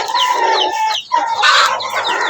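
Chickens on a small poultry farm clucking and calling in a busy, continuous chorus, with a brief lull midway before the flock picks up again, close and fairly loud with no talk.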